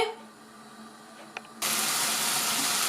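Bacon sizzles as it fries in a pan for bigos, starting as a quiet hum with a small clink, then breaking into a sudden loud, steady hiss of frying fat.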